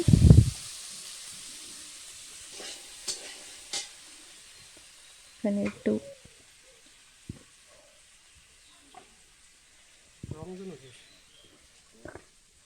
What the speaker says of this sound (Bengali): মটরশুঁটিটাকেও ভেজে নিচ্ছি